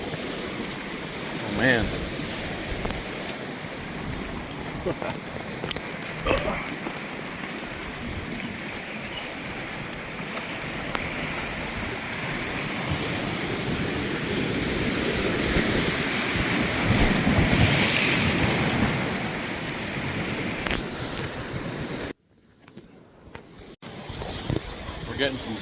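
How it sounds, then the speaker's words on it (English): Ocean waves surge and splash against a rocky outcrop on the Acadia coast, a loud continuous wash with wind buffeting the microphone, building toward a heavy crash before a brief drop-out, with a short spoken exclamation. "I don't know if you can hear me because of the water noise, but some splashes are coming up this high"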